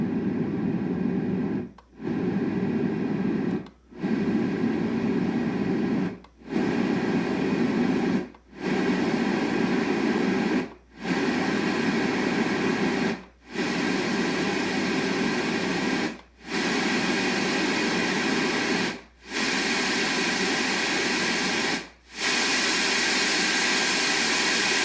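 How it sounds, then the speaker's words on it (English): A LectroFan sound machine plays steady white noise in long uniform blocks, each cut off by a brief silence before the next begins, about ten segments in a row. "And now we'll go through the white noises."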